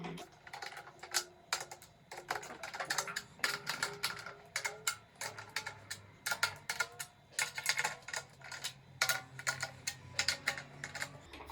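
Quick, light taps strike a snare drum head during tuning in irregular bursts, close and fairly quiet, with short pauses between clusters as the pitch rises.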